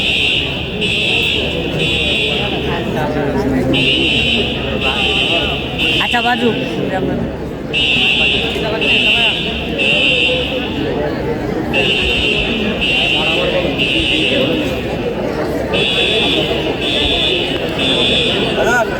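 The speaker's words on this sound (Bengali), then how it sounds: "অ্যালার্ম বন্ধ করেন, ফায়ার অ্যালার্ম বন্ধ করে দেন।" Factory fire alarm sounding loudly and near in repeated bursts of a shrill electronic buzz, with short gaps between groups, while people talk and a crowd murmurs underneath.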